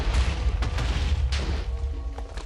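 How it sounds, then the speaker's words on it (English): Charge shot explosion in the Minecraft Tekkit modded video game, a dense rumbling boom with several sharp bursts in quick succession, loud and close, no talking. "it's making an explosion"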